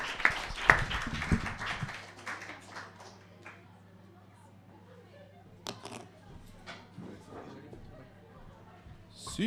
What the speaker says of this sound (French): Je pense qu'on peut y donner une autre belle main d'applaudissement.